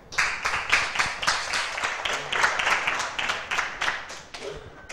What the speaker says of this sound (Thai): นั่งลงปรบมือให้